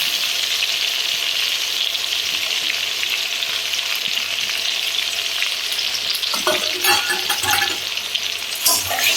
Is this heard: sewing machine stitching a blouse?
no